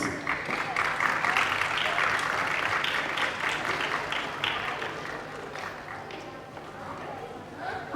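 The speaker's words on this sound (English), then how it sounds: "I would request to just continue your round of applause." Sustained applause from an audience, dense clapping that holds for several seconds before gradually thinning and tapering off.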